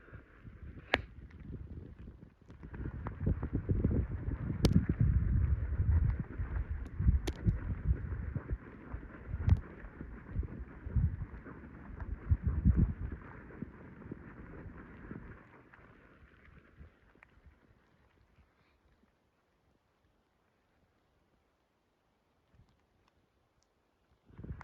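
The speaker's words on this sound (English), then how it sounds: "Higher gust right there." Roaring wind gusts from a lake effect blizzard rise and swell for about fifteen seconds, a broad rushing noise with a louder peak, then die away to near silence.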